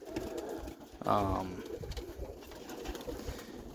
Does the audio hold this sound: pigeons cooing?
yes